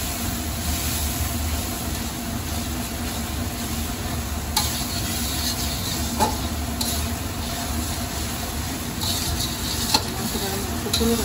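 Spiced goat meat curry being stirred and sautéed in a pan with chili and coriander powder, giving a steady, close sizzle with occasional scraping and clinking of the spoon against the pan.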